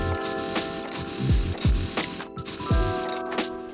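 In Car Mechanic Simulator, a car wheel comes off with rapid mechanical ratcheting bursts from a power tool, interrupted by a few sharp clunks and swooping tones, close and loud with no talk.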